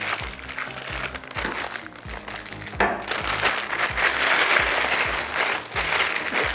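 A plastic piping bag crinkles in rustling bursts while buttercream for a unicorn cake is loaded, over steady background music.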